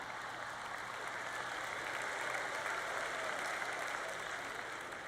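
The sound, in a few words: audience applause in church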